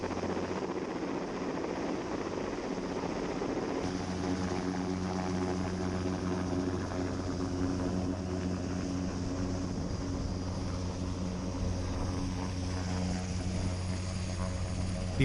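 A helicopter holds a steady hover while lowering a steel tower segment, its rotor and engine drone loud and constant throughout with a slight shift in tone partway.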